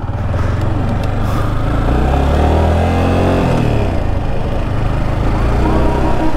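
Motorcycles ride in holiday traffic, with a steady loud engine drone and revving close by, and passing vehicles blended into a dense continuous roar.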